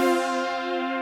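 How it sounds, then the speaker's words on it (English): A fat, rounded keys synth patch from a free retro Serum pack holds one warm chord with dense low-mid harmonics, sustained evenly at a steady level for about a second. "That's the much fatter rounded keys,"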